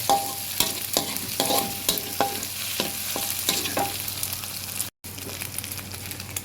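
Pork and meatballs stir-fried in a pan, with steady sizzling and repeated scraping strokes of a utensil in an irregular rhythm, close and moderately loud, with one very brief gap near the end.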